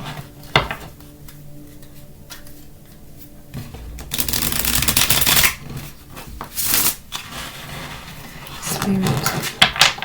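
Tarot cards are shuffled and riffled in several quick bursts, with crisp papery flutters and soft taps between quieter pauses close to the listener.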